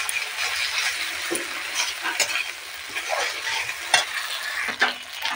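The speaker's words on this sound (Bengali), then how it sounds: "এবার মশলাটা একটু কষিয়ে নেব" A paste of cumin, ginger, coriander and green chili fries on a wood-fired stove for mutton kosha, a continuous close sizzle with scraping stirs and scattered crisp pops, and no voices.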